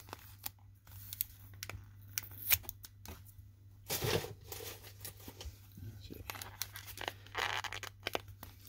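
Tape peeled off a mail package, close and faint, in short ripping and crinkling bursts scattered through, with a strong ripping tear near the middle.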